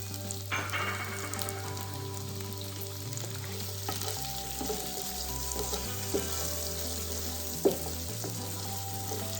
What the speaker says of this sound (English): So the sesame seed is getting toasted, intensifying the flavor here in this pan